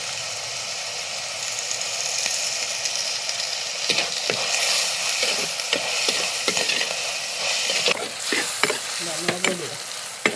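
Chopped tomato and a sprig of curry leaves sautéing in a pan, a steady sizzle broken by clattering stirs and scrapes that grow busier toward the end, close and fairly loud with no talking.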